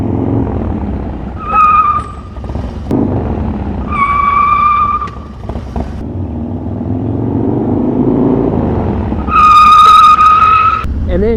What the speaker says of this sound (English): lock up that rear brake, start to skid a little bit